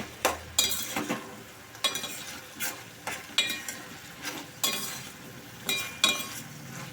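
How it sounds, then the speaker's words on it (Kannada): Ridge gourd sizzles faintly in a pan while a spoon stirs it, giving about a dozen sharp scraping clinks in an uneven rhythm over the soft, steady frying. "ಈ ಥರ ನೀಟಾಗಿ ಫ್ರೈ ಮಾಡ್ಕೋಬೇಕು"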